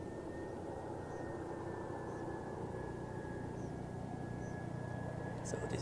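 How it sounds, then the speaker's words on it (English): An EasyJet airliner arriving from Malaga at Zurich Airport: a steady, broad engine roar with a thin whine above it holds from start to finish at moderate distance, with faint talk mixed in. "So this is EasyJet from Malaga."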